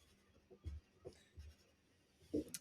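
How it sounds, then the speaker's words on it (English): A pen coloring in a paper sketch, faint scratchy strokes in short bursts separated by quiet pauses, close and soft with no talking. "So I'm going to color these in"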